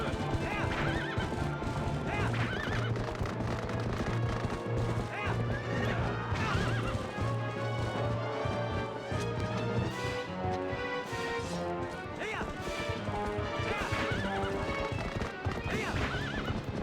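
Horse hooves clip-clopping at a gallop with repeated neighs and whinnies in the video game Twilight Princess, loud and continuous over layered game music and effects.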